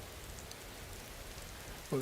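Rain falls steadily in Skyrim, a soft, even hiss of raindrops spread across surfaces, continuous and fairly quiet, with a brief voice cutting in at the very end.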